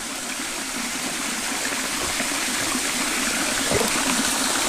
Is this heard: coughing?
no